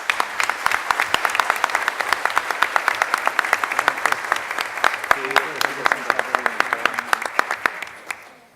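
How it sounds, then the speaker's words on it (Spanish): A crowd at an international arbitration congress applauds continuously, dense rapid clapping at steady strength that carries on for several seconds before fading out at the end. "quiero pedirles un aplauso a ellos dos."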